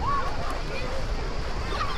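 Sea waves wash steadily at Cala Brandinchi beach in San Teodoro, Sardinia, a soft broadband surf roar under light wind, continuous and fairly distant, with no voices.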